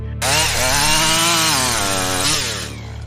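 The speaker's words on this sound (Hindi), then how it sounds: "अब जैसे ही उस आरी को स्टार्ट किया गया कि उसमें से एक बड़ी सी आवाज आई" A chainsaw starts up and roars loudly and steadily for about three seconds, its engine note holding near and strong before easing off slightly at the end.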